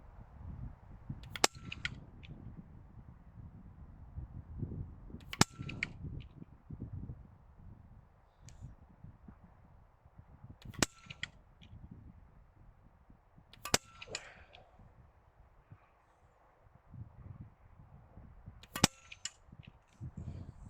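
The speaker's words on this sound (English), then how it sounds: "if I can shoot that little chalk disc at 50 meters freestanding" Five sharp, separate shots from a Steyr Hunting 5 .177 air rifle fired freestanding at a chalk disc 50 meters away, each crack several seconds apart over a low outdoor rumble.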